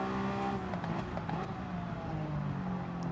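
Race car engine from Gran Turismo 7 driving on light fuel with worn tyres, a steady loud drone with shifting pitch as it carries into a corner, continuous and close throughout.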